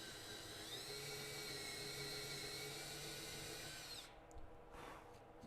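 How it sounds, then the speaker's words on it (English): A power drill whirs steadily and close, boring a dowel hole in a wooden birdhouse, its pitch falling slightly before it cuts off and leaves quiet handling noises. "sometimes you can reverse the drill bit also to clean out the hole that you drilled."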